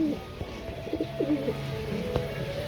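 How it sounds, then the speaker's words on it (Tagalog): Soft, low cooing from a checkered pigeon, several short murmured coos close by over a faint background hum. "Ito naman po yung ating isang kalapate na checkered."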